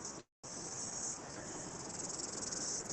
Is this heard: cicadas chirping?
yes